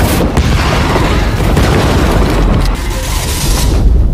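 An explosion in the Monster Hunter film: a loud, rumbling blast with dense low-end roar that sustains for several seconds, like a heavy blast and its aftermath.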